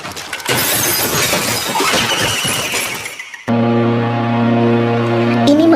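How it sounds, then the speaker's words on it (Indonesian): Glass smashes loudly on a staircase in a burst of crashing, tinkling shards for about three seconds, followed by a sudden shift to a sustained low hum. "suara pecahan kaca terdengar keras dari tangga"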